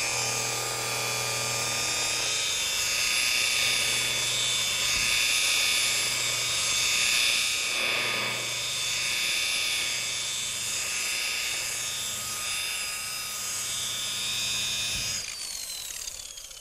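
A polishing machine cuts and buffs a car's painted panel with a steady, close, high whirring drone that holds for most of the stretch before cutting off near the end, with no voices.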